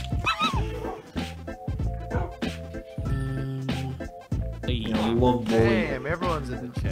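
Video game dog barking and yipping among music and game sound effects, a few short barks scattered through a busy mix with talk over it.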